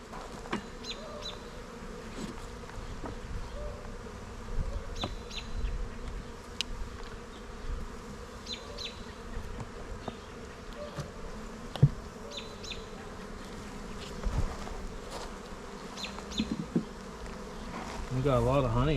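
Honeybees buzz steadily around a busy backyard hive whose boxes are being fitted with honey supers, a dense, continuous hum of many insects close by with no talking.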